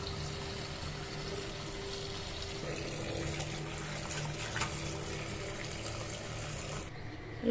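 Tap water running steadily over leafy greens being washed, a constant splashing stream at moderate level that stops abruptly near the end, with no talk.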